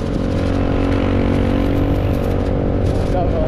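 Motorbikes in night traffic in Legian and Seminyak, Bali, droning and revving close by in a constant loud engine rumble with passing traffic noise and a voice talking briefly.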